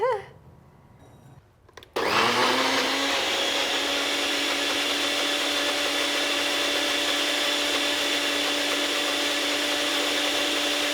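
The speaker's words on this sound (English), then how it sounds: "and I'm gonna blend." A blender whirs steadily as it purees collard greens into a sauce, kicking on loudly after a short quiet moment and then running continuously at an even pitch.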